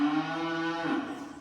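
A cow on a farm gives one long, loud, close moo that holds steady and then drops and fades, heard alone.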